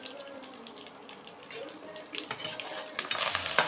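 Curry leaves and asafoetida sizzle in hot oil as tempering for mango rice, a steady crackling fry that grows louder and sharper toward the end, with little else heard.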